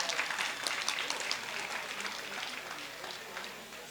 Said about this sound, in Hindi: अब हम ताली बजा दें सर के लिए एक बार।